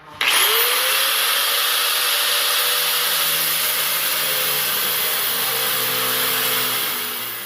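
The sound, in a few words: grinding off a button on a traction bar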